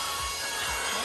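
A Bissell Aeroslim handheld vacuum running up close, a steady loud whooshing hiss of airflow with a faint low hum beneath it.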